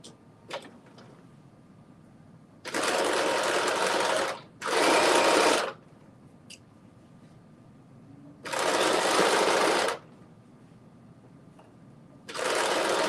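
A sewing machine stitches a sleeve of a garment in four separate bursts of steady whirring, each lasting one to two seconds, with quiet pauses between them. No one speaks.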